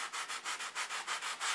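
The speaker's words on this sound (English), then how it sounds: "And then we'll come in with just one of these sanding pads" Sanding pad rubbed back and forth over a taxidermy form, smoothing out tooth marks in the sculpted muscle; about nine even, rhythmic raspy strokes, close and steady with no talking.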